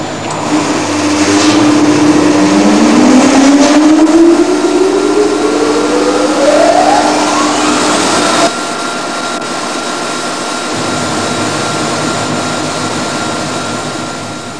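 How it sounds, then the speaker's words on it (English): The drive motor of a Van de Graaff accelerator starts up and runs: a loud, steady mechanical roar with a whining tone rising in pitch as it spins up. It settles into a constant hum. "ready to start the drive motor now"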